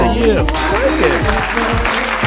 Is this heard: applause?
yes